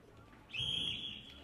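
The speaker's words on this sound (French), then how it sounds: "c'est le coup de sifflet le plus pourri que j'ai entendu de ma vie" A referee's whistle is blown once to start a pétanque match, a short, thin, slightly weak blast lasting about half a second over quiet outdoor background.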